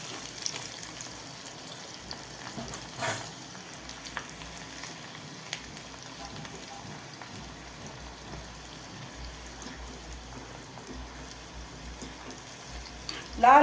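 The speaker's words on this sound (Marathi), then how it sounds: "आता लसूण चांगले लाल झाले की त्यात तिखट घालायचं." Garlic tempering sizzling and frying in hot oil in a home kitchen, with chili powder about to go in; a steady low crackle runs throughout, with a louder clatter near the end.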